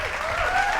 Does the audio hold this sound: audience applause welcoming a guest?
yes